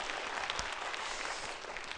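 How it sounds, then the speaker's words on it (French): A hall audience at the Les As du Français 2015 finale applauds the jury president, a steady, dense wash of clapping, faint and distant, lasting two seconds. "applaudissements pour notre président"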